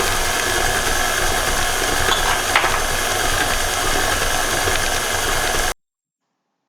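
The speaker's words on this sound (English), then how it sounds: "Turn your mixer on low speed." An electric stand mixer runs on low speed while beating butter icing, giving a steady, loud whirring hum that continues evenly and then stops abruptly.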